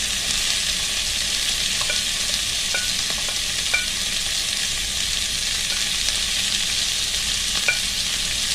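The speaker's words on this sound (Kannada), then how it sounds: "ಟೊಮೆಟೊ, ಬೆಳ್ಳುಳ್ಳಿ ಹಾಕೊಳ್ಳುವ" Tomato and garlic fry for a stuffed brinjal curry, giving a steady, even hiss of sizzling oil with a few light clicks of stirring, close and continuous throughout.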